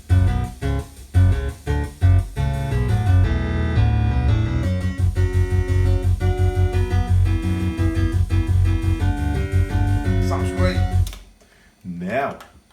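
Duke Nukem game music plays through a Sound Blaster-type ISA sound card on a Pentium 166 MHz PC, a loud, busy synthesized tune with punchy bass hits and steady beats that stops abruptly near the end, followed by a brief voice.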